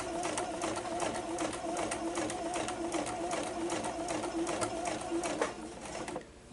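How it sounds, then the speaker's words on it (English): A domestic sewing machine set to a long basting stitch runs at an even clip, its rapid needle ticking close by and steady for several seconds before slowing to a stop, while a glasses case is sewn. "we're going to turn the stitch up to a basting stitch of 5, and we're going to carry on sewing across that gap"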